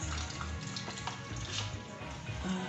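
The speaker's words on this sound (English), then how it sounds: "Then I'll add the milk." Milk poured into a blender for a strawberry smoothie, a steady liquid splashing and trickling that runs continuously for a few seconds, close and fairly quiet, with no one talking.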